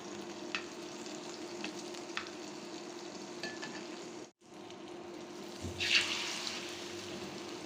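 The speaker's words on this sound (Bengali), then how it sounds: "5টা ডিম 2বারে দিয়ে ভেজে নিলাম, আবারও দিয়ে দিচ্ছি।" Eggs fry in a pan in a home kitchen, five cooked in two batches, giving a steady close sizzle and crackle with a brief gap and a sharper hiss near the end.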